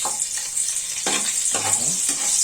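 Garlic frying in oil in a pan for ginataang manok, a steady close sizzle with several scraping stirs breaking through.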